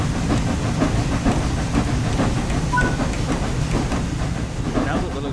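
LNER Class A3 6010 Flying Scotsman steam locomotive underway in Train Sim World 4, a loud steady rumble with rhythmic chuffing pulses and a faint hiss running throughout, with no talk over it.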